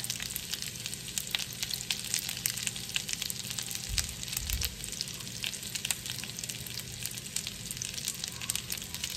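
Pears browning and softening in a hot pan, with a continuous crackling sizzle and a couple of soft low bumps, steady and close with no talk.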